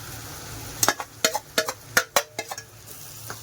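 Roasted semolina poured into a pan with turmeric and asafoetida and stirred for upma, giving a run of sharp scraping and clinking strokes from a spoon against the pan, close and fairly loud.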